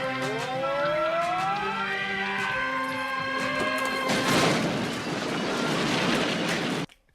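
A wailing siren with falling tones as an ambulance crashes in the film Dead Heat, a loud crash bursting into a roaring explosion that rumbles on before cutting off abruptly.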